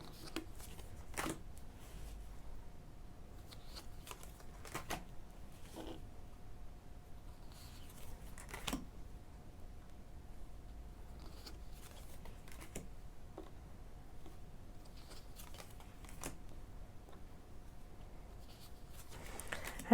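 Cards of a Book of Shadows tarot deck are flipped through one by one, giving soft, scattered papery taps and slides every second or so against a quiet room.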